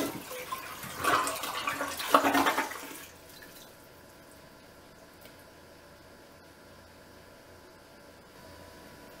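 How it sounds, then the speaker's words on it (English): Toilet flushing with its water supply shut off, a brief rushing gush for a few seconds, then quiet with faint trickling. "I'm going to go ahead and flush it and see what happens."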